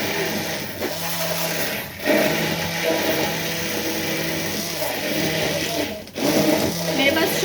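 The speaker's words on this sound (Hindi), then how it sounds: "मेरे पास मशीन है बट मेरे को ये वाला हैंड ग्राइंडर चाहिए था, ये बहुत यूज़फुल रहता है" A Morphy Richards hand grinder whirs with a loud, high motor whine, running in bursts with short breaks between them.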